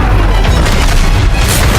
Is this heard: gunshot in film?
yes